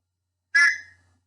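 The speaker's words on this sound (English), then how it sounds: "I do carry a whistle." A single sharp blast from a pocket whistle kept in an everyday carry kit, loud and close, sounding alone and fading quickly into silence.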